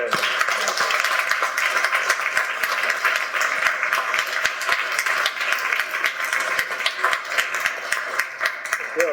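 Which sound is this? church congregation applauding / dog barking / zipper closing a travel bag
church congregation applauding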